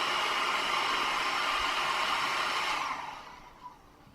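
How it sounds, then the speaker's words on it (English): A hair dryer on high heat at a fly-tying bench blows a loud, steady, close-up whoosh for about three seconds, then winds down and fades out. "Now I haven't used the hairdryer for its intended purpose since about 1978."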